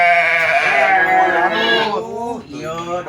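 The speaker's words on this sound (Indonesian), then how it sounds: "Iya, domba Garut aki." A Garut sheep bleats loudly and close by, one long wavering call followed by shorter cries, with people talking over it.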